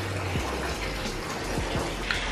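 Water from a tap runs steadily into a bathtub, a constant soft rushing hiss with faint gurgles, heard close and alone without voices.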